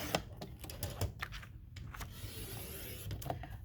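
A paper trimmer slices a narrow quarter-inch strip from cardstock while making a mini album, giving a series of quiet close clicks and short scraping swipes of the blade, faint and without talk.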